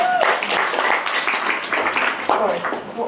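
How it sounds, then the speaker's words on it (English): A round of applause fills a workplace meeting, with many hands clapping in a brisk, fairly loud burst. Voices talk over the clapping. "Big round of applause for Becky, please, ladies and gentlemen"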